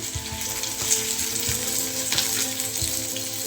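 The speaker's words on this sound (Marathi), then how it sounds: "त्याच्यामध्ये तेल टाकून घ्यायचे आणि कांदा आणि टोमॅटो आपल्याला परतून घ्यायचे" Onion and tomato sautéing in oil in a kadhai: close, dense frying sizzle with low rhythmic stirring thumps and scrapes, no speech.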